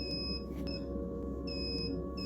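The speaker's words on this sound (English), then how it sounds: "Power outage in one of the storage rooms was causing the fire alarm to go off." Fire alarm in a storage room after a power outage: a high electronic chirping beep repeats at regular intervals over a steady low mechanical hum, sounding somewhat distant and muffled.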